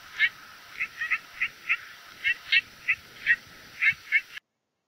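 A trumpeter finch gives a series of short, nasal, buzzy calls, about a dozen evenly spaced notes over a few seconds, clear against a faint background hiss.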